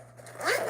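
A zipper is drawn quickly along a handmade fabric bag, one short rising zip close up with a quiet hum underneath.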